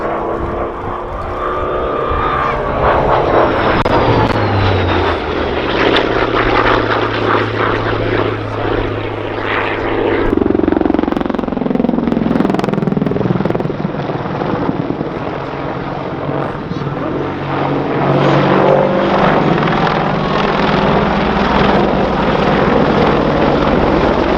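A propeller aircraft powered by a 2,500 horsepower Bristol Centaurus piston engine flies past at an airshow, a loud continuous drone whose pitch slides downward as it passes, with a voice commentating over it.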